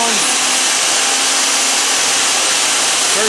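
A power saw runs at full speed in a woodworking shop, a loud steady broadband whine with a faint motor hum beneath, no spike from a start-up.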